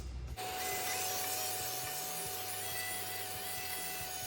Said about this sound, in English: I use an oscillating tool or vibrating tool such as this